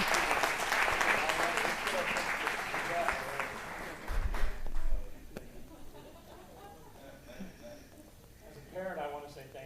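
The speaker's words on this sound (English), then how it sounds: "So let's give him a round of applause." Applause from an audience at a school board meeting award presentation, a dense steady clatter for about four seconds that then fades into softer scattered claps and murmuring voices.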